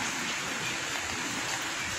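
Steady rain falls continuously in a wet, hissing wash with no pauses, fairly loud and even, on a rainy day at a church before mass.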